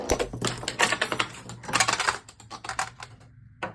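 Metal Beyblade Metal Fight tops, including a Pegasus and an L-Drago 105F, clatter and scrape in a stadium with a dense rattling run of close hits, ending in a brief quieter spin.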